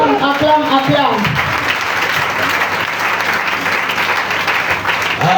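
A church congregation bursts into sustained applause after a voice speaks at the start; the clapping is loud and dense and continues steadily to the end.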